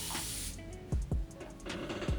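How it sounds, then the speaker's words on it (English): A hiss from a spray bottle misting hair opens the clip, followed by a few soft clicks and thumps, with a faint second spray hiss near the end. "And I'm using my spray bottle"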